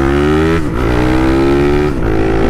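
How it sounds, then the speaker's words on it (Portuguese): A Honda Twister motorcycle with a 79 mm big-bore kit climbing a steep street hill, its engine droning loud and close under heavy throttle, dipping briefly twice as it shifts or eases off before pulling again. "Vou dar uma acelerada aqui pra vocês verem esse subidão aqui, ó."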